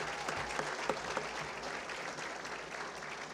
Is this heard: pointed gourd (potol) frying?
no